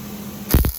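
A brief tack weld on a rebar part: a low electrical hum, then a sudden loud crackling burst lasting a fraction of a second before fading.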